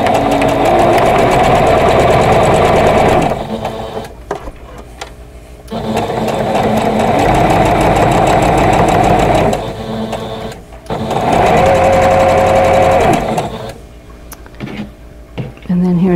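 A sewing machine stitches vintage Jackson Star quilt block pieces together, loud and close in long continuous runs broken by brief stops, with a faint voice in the gaps.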